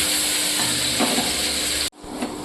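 Tender drumsticks and potatoes frying in oil, a steady, close hiss of bubbling oil that drops off abruptly near the end and returns more quietly.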